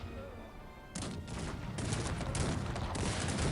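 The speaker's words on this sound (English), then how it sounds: "The gunners open fire, and they're able to hold off." Cannon gunners fire in a Cossacks 3 battle, a sudden burst after a quieter start that builds into a dense, sustained volley of overlapping shots and crackling gunfire.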